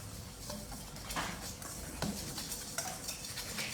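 Dry cake ingredients for a pistachio sponge with a pinch of fleur de sel being mixed in a bowl, soft, quiet stirring with scattered light clinks of a utensil against the bowl, close and with no talking.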